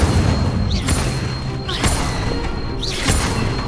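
Repeated Incendio fire spell casts from a wand in Hogwarts Legacy, three sharp whooshing bursts spaced about a second apart over a steady, busy game background.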